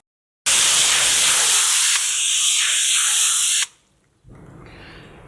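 A garden hose nozzle set to shower sprays steadily in a vegetable garden, a loud broad hiss that holds for about three seconds, softens slightly midway, then cuts off and resumes more faintly.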